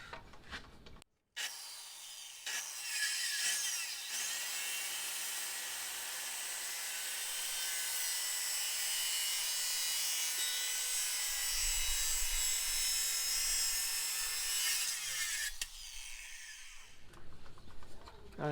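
A Makita saw cuts through plywood for a boat build in one long, continuous, loud pass of rough grinding that lasts about twelve seconds before tapering off.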